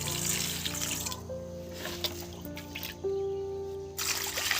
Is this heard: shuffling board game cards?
no